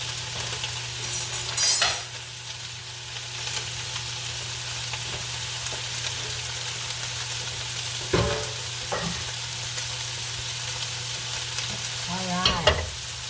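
Corned beef fries in butter with onion and cooked potato cubes, giving a steady sizzle throughout, broken by a few sharp scraping and stirring clatters near the start and toward the end.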